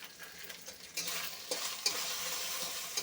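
Spice paste with ginger paste and salt frying in a pan for a potato and pointed gourd fish curry, a faint hissing sizzle that swells after a stir, with occasional soft scrapes, close and without talk.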